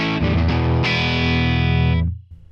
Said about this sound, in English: So for the Les Paul, it's sounding as it should. Let's do the edge of breakup again.